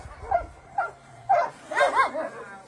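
Dogs at an animal shelter give several short yips and barks in quick succession, close by and fairly loud.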